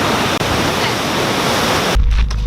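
A waterfall roars as a loud, dense, steady rush of falling water close by, filling the whole sound, then briefly cut into by heavy low wind buffeting near the end.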